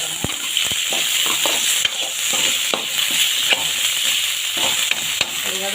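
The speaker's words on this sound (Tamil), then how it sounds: "இந்த சேப்பங்கிழங்கு நம்ம சேர்த்து வதக்கிக்கலாம்." Dried fish and pirandai curry are being sautéed with taro in a pan, giving a constant close sizzle broken by repeated sharp scraping clicks of a spoon stirring, with no speech.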